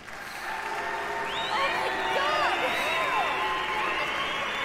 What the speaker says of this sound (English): People booing?